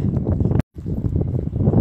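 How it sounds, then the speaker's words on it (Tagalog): Gusty wind buffets the microphone in low, blustery bursts, with a brief dropout partway through. "At least mahangin pero hindi masyadong malamig ng ang hangin."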